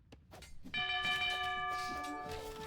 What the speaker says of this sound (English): And now the town bell at least makes sense.